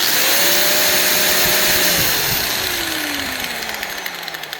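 An angle grinder spins down from a steady whirring drone to a slower, lower speed, the motor pitch gradually dropping, loud and close.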